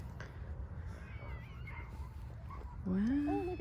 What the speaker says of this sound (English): look, a kitty cat has come to visit